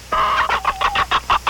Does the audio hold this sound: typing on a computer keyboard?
no